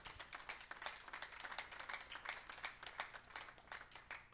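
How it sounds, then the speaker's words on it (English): Applause for a prophet at a men's conference round table, a scattered, fairly faint patter of hand claps running steadily throughout. "Give the prophet a round of applause today."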